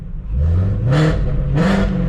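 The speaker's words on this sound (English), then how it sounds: "So with the valves closed, let's go ahead and give it a rev up." A Ford Mustang GT350 engine with catless midpipes and exhaust valves closed revs up twice in quick succession, each burst rising in pitch and roaring loudly over a steady idle rumble.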